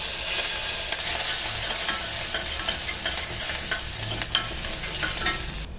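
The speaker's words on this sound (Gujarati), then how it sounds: "તેલ ગરમ થાય એટલે તેમાં રાઈ, જીરું, હિંગ, વાટેલા આદુ મરચાં" Mustard seeds, cumin, asafoetida and crushed ginger-chilli sizzle steadily in hot oil, a dense continuous frying hiss with faint scattered pops and occasional stirring.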